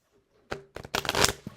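Tarot oracle cards riffled and shuffled by hand in half piles, a quiet start followed by a burst of quick papery flutters and snaps, close up with no talk.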